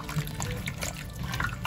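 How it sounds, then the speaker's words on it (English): Stirring Worcestershire sauce into a pot of venison Irish stew, a soft wet sloshing and liquid churning heard close up in short continuous swirls. "And then we're gonna stir all that in there."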